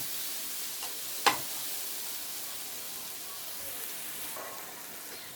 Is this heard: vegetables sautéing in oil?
yes